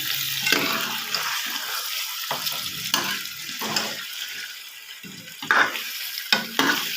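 Eggs being stirred gently in a lidded pan on the stove, with sizzling from the hot pan and short, uneven bursts of spatula scraping separated by brief quiet gaps.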